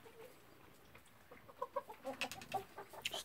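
Soft, close clucking from a Cheonggye rooster, a series of short irregular calls that grow busier toward the end over quiet outdoor background on a cold, sunny day.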